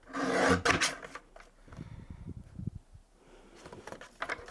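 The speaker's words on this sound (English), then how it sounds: "I'm going to take my guillotine, which I've got here, and we'll just trim this piece down." A paper guillotine trimmer slices down through a piece of card for a pink flower greeting card, a close rasping blade stroke followed by softer, scattered scraping and rubbing sounds.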